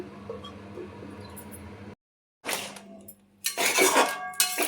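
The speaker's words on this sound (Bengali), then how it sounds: "এবার ঢাকা দিয়ে দিচ্ছি।" A lid is set onto a cooking pan holding a crab claw curry, giving a brief gap and then close metallic clinks and scraping with a faint squeak.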